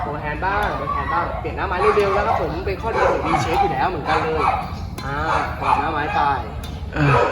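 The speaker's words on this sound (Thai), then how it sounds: "อาจจะมีเสียงสุนัขเห่านิดนึงนะครับ" A dog barks and yips intermittently in the background of an indoor badminton lesson, with someone speaking continuously over the barking.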